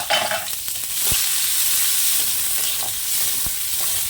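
Onions sizzle and hiss steadily in a hot pan, with a few sharp clinks of a spoon stirring.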